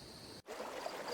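Creek water flows steadily in a forest at night, a continuous soft rushing and trickling that runs throughout, broken only by a very brief dropout near the start.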